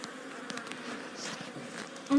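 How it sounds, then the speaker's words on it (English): Honey bees hum around an open hive during a late-summer hive check, a soft, steady close-up drone of many wings with a few faint individual buzzes passing by, no voices. "And this is the bees working."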